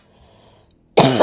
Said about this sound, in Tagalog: Inuubo pa ako guys.